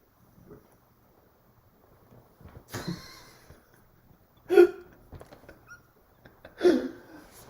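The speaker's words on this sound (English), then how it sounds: "A burp after an energy drink is the worst" Short burp-like bursts after an energy drink, three brief throaty sounds spaced a couple of seconds apart, close to the microphone and fairly quiet between them.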